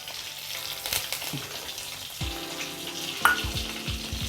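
Mashed potato frying in a pan, a steady close sizzle with a few scraping stirs and light knocks, no voices.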